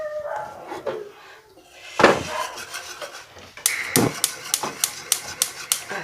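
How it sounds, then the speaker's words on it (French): Eggs, flour and sugar being whisked into a cream in a metal pot over medium heat, with a few clinks followed by a quick run of rhythmic whisk taps against the pot, close and moderately loud. "Et on va mélanger. Mais après, on va mélanger jusqu'à ce que ça épaississe et que ça ait la consistance d'une crème."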